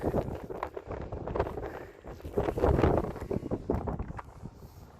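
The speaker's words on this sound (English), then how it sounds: "it's really getting windy. I mean, treacherously windy." Gusty wind buffets the microphone in rough, roaring bursts, swelling and easing over a few seconds, loud and close with no voices.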